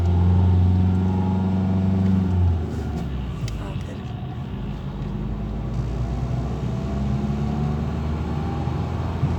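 A car engine runs under light throttle during a driving lesson, holding a steady drone that drops to a lower rumble after about two seconds and then continues evenly and close by. An instructor speaks over it.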